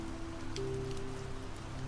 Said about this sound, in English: Outside the window, raindrops slide down the glass in quiet lines.